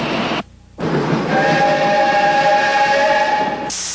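A train moves along a railroad track with steady rolling rumble and a sustained whistle tone, with a brief dropout early on and a change in sound at the end.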